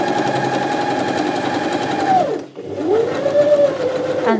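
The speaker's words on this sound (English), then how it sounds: "And sewing to the edge." A sewing machine runs steadily, stitching a second row along fabric while gathering it, then slows to a brief stop and starts again as it sews on to the edge; the motor is near and continuous.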